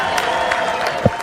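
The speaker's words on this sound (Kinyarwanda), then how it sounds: "ndagira ngo mumere amashyi menshi Rukara ugiye kudutaramira muri aka kanya" Audience applause and crowd noise greet singer Rukara as she takes the stage at a school singing competition, a steady wash of clapping with a brief louder burst near the end.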